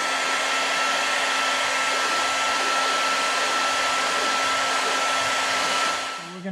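A heat gun blows steadily, warming adhesive on a bracket for a C7 Corvette, a loud continuous whooshing hum that holds for about six seconds before easing off at the end.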